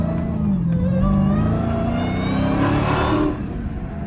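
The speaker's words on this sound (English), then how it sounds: "But that supercharger be really, really screaming." A car engine revs hard nearby, its pitch climbing and falling with a high supercharger whine over a deep rumbling exhaust.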